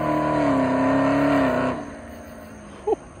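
A Camaro ZL1 doing a smoky burnout on a patched tire: a loud, close engine howl holds steady, then cuts off abruptly, leaving a low idle and a brief chirp.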